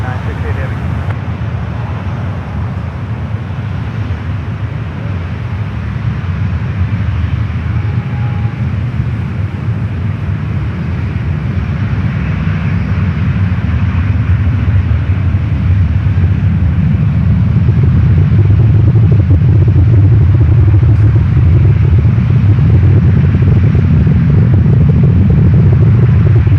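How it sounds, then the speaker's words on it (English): A Boeing 777 jet at San Francisco airport, a loud sustained low roar and rumble that swells steadily toward the end, with someone talking over it. "The way you just heard, that was still the 777."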